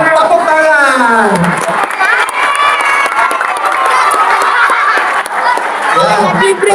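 A crowd of schoolchildren at a Ramadan religious talk claps and cheers loudly and close, with shouting and excited voices layered over the noisy clapping throughout.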